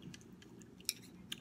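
Someone eating kimchi during a mukbang, with soft wet chewing and a couple of sharp crunchy bites, close to the mic in a quiet room.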